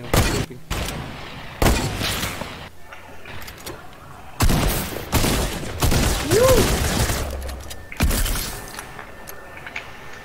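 Gunfire in Fortnite: several loud, close shots and short bursts separated by pauses, spread across the scene with game ambience between them.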